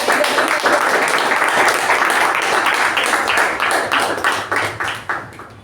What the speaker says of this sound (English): Let's all give him a huge round of applause.